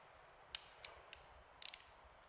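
A ratchet wrench turning a bolt, heard as a few sharp, quiet clicks spaced apart and then a quick burst of three or four clicks near the end, close by with no talk.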